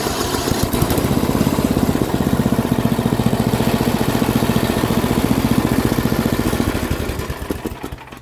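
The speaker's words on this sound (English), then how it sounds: "This actually runs better than my snowblower I used in wintertime." A Craftsman 10/30 snowblower's small engine runs loud and close with a rapid, even chugging pulse, holding steady for several seconds before slowing and dying down at the end.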